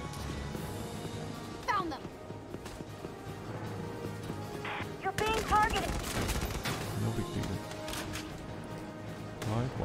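Gunfire in the video game Valkyria Chronicles 4: repeated bursts of shots cracking over a busy battlefield backdrop, with voices speaking throughout.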